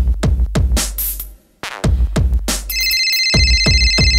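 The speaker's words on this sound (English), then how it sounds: "Oh, shut up, stupid phone." A phone rings loudly and close by in repeated sharp electronic bursts, with a brief pause midway and a steady high tone joining near the end; no one speaks during it.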